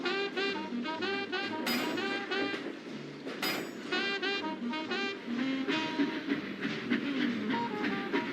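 Rumbling noise of steam locomotives, LNER N2 and LMS N2, arriving at a rail yard, with repeated clattering wheel rhythms and bright whistle-like tones, steady and fairly loud throughout.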